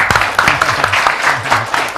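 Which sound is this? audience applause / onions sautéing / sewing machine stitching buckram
audience applause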